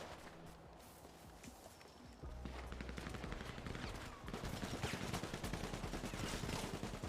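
Rapid bursts of gunfire in a GTA roleplay game: a short exchange at first, then dense, sustained volleys of shots that build into a loud, continuous fusillade.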